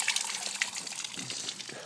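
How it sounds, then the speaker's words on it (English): Water trickles through a small bamboo pipe in a Japanese village, a brief, close, bright splashing and gurgling that runs without a break and is heard alone. "Little bamboo funneling the water through."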